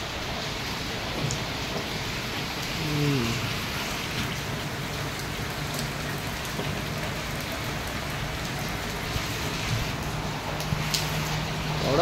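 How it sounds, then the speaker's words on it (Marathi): Heavy rain falls steadily during a night of celebration after India's Asia Cup final win over Pakistan, a dense continuous hiss throughout with a faint low tone and occasional distant pops mixed in. "एवढा पाऊस पडतोय."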